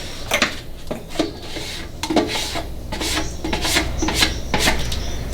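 A stir stick scrapes around the sides of a bucket of metallic floor epoxy in repeated close rasping strokes, a steady rubbing rhythm with no talk.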